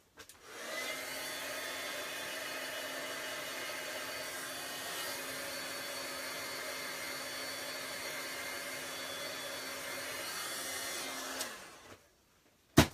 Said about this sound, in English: I'm gonna have to pull my heat gun out